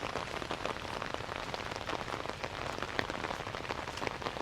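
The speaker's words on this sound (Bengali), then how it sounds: "মানে বৃষ্টির শব্দে আমি ঘুমাতে পারছি না।" Steady rain falls on a village, a dense, even patter of drops on surfaces continuing without pause at moderate loudness, with no voices.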